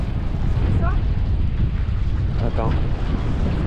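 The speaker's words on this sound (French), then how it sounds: "là on commence à avoir des bonnes petites rafales" Strong wind gusts buffet a sailboat under way at sea between Guadeloupe and Saint Barth, a steady loud roar of wind across the microphone throughout, with someone speaking briefly over it.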